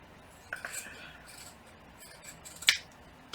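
Scissors snipping through material while styling a shelf and ledge display, a few faint, sharp metallic cuts with quiet shuffling between them in a calm indoor room.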